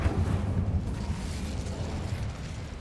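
Incendio fire spell cast in Hogwarts Legacy, a steady low roaring whoosh of flame that holds at a fairly loud level for a few seconds with no talking.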